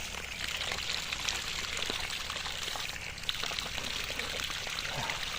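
Water pours steadily from an irrigation tube in a chilli field, a continuous close rushing flow with a light trickle and spatter on top.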